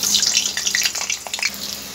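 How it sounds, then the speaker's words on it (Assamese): Potatoes fry in hot oil in a wok for an Assamese-style jackfruit dish, giving a steady, close, bright sizzle with crackling pops throughout and no talking. "মই আলুখিনি ফ্ৰাই কৰি লম"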